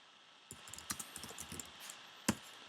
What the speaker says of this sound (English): if I want to add some more content, I can just type it in